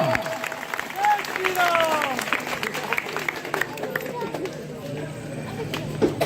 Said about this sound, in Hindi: कृपया इतनी पब्लिक है, एक बार तालियां आपकी मिल जाए तो इन बच्चों का प्रोत्साहन बढ़ेगा